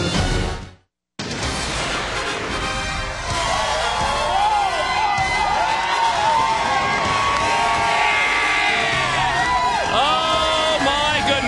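A large baseball crowd at a Phillies versus Diamondbacks game cheers and roars continuously after a brief cut, with whoops and shouting swelling in waves and a voice talking over the din.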